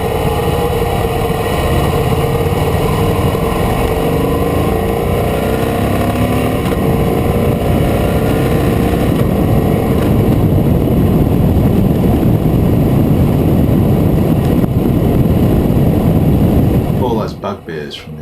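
Engine of a brand new 2014 Harley-Davidson Fat Boy motorcycle while riding in southeast Queensland, a loud steady drone with wind rush throughout, fading out at the end.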